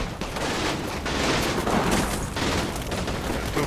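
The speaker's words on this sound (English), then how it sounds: "The artillery hits are getting closer." Artillery shells hit in the World War II strategy game Combat Mission Final Blitzkrieg, with a dense, continuous barrage of rumbling blasts and crackling explosions that holds loud and steady throughout.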